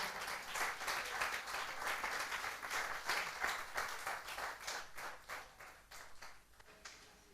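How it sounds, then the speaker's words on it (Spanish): A church congregation claps and applauds steadily for several seconds, a dense patter of many hands that holds even and then thins slightly toward the end. "denle un aplauso al Señor"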